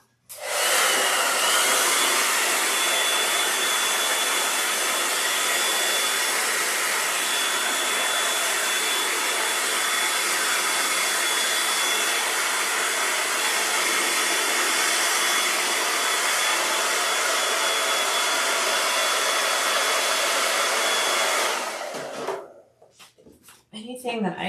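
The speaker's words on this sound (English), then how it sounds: "I'm going to blast it with heat before I turn it out, just so it's a little easier." A heat tool blasts hot air onto a sewn handbag before it is turned right side out, a loud steady roaring whoosh for about twenty seconds, close, cutting off abruptly near the end.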